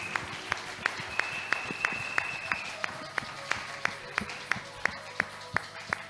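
A church congregation claps in a steady, even rhythm of about three beats per second, with sustained tones and voices carrying underneath.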